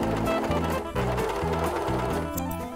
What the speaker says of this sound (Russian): Начинаем шить. Сначала выполняем плечевые швы.